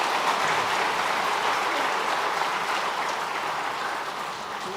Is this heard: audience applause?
yes